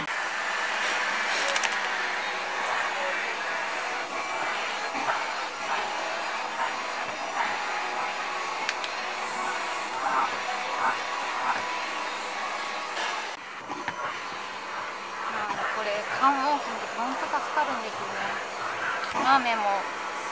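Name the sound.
vacuum cleaner used on a shedding Kai Ken dog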